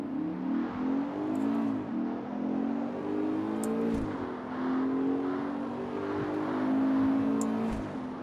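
Mustang engine in CarX Street, revving up and down through several gear shifts at moderate loudness, with a few sharp clicks and blips along the way.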